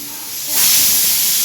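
Pressure cooker of rice on a kitchen stove lets off steam through its whistle: a sudden loud, steady hiss bursts in partway through and carries on to the end.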